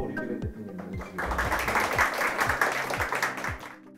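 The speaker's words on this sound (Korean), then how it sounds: "저희 박수로 류기백 대표님 모시겠습니다." An audience at a startup talk event claps to welcome a speaker, a dense wash of applause that swells after a second and holds steady, with a few sharp individual claps and some faint talk underneath.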